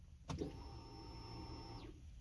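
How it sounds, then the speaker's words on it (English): Car fuel pump priming after the ignition key is turned on: a faint, steady electric whine begins after a brief click, holds for about a second and a half, then stops, heard from inside the car. "You could hear it where it started pumping, like the pump was working."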